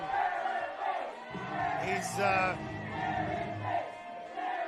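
Wrestling crowd roaring and jeering as a wrestler, the Monarch, comes out at an 880 Wrestling tournament event, a loud sustained shout over a commentator's voice.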